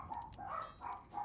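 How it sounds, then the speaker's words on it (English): Chihuahuas bark faintly in the background, a few short yapping bursts in quick succession, distant and quiet. "I do apologize in advance if you can hear the dogs in the background."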